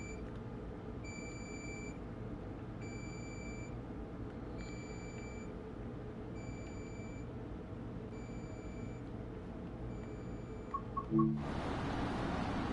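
Regular, evenly spaced electronic beeps repeat about once a second inside the Train Sim World 4 game on the Northeast Corridor Boston Sprinter route, over a steady low rumble, with a louder burst of noise at the end.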